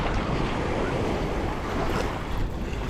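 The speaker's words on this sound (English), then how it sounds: "The waves are so strong in the glare and the murky water" Strong wind-driven waves churn on Lake Washington on a windy day, a steady loud wash of water close by with heavy wind buffeting the microphone throughout.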